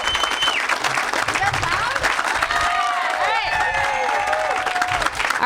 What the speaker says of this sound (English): So let me hear you clap and applause as loud as you can.